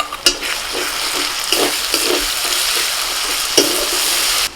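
A paste of ground black pepper, cumin and dried chillies fries with onions and ginger-garlic paste, giving a continuous loud sizzle broken by repeated spatula stirring scrapes close by.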